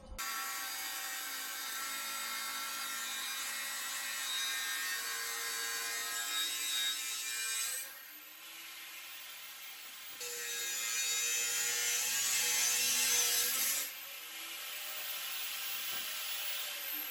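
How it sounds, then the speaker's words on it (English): An angle grinder cutting metal pieces for a custom Whipple supercharger cooling system, a steady loud high-pitched whine and rasp running continuously in long passes with short dips between cuts, close up and without speech. "take the grinder and just cut the pieces we need"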